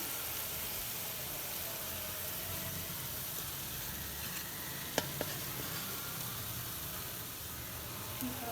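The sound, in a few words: stirring carrot halwa in pan while adding khoya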